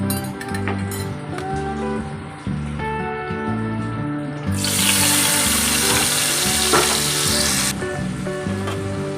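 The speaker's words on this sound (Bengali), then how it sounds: "আমি মশলাটা এবার ছেড়ে দেবো।" Masala hits a hot pan for a paneer dish, bursting into a bright, loud sizzle midway that hisses for a few seconds over earlier clinks, a low hum and background clatter.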